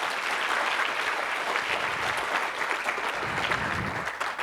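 An audience at an international pharmacy research conference applauds a speaker, dense sustained clapping from many hands that fills the room and tapers slightly at the end.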